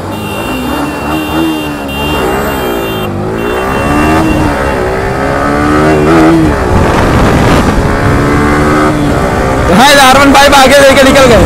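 Bajaj RS200, Bajaj NS200 and Yamaha R15 V4 motorcycles in a drag race, engines revving and accelerating hard with rising and falling pitch, loud and close, with people talking over the roar.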